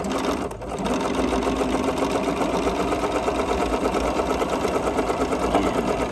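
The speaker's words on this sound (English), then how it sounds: "we're gonna sew this one on here" A sewing machine stitching a quilt block at close range, a fast even mechanical whirr and rapid stitching chatter with a brief pause at the start.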